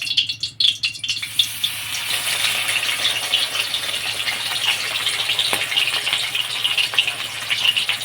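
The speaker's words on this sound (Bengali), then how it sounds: "এখন কড়াইতে আমি সাদা তেল দিয়েছিলাম, তেলটা গরম হয়ে গেছে। এবার বড়াগুলো ভেজে নেব।" Lentil-stuffed pumpkin leaf fritters frying in hot white oil in a kadai, giving a steady, loud hiss and bubbling crackle that runs unbroken throughout with no voices.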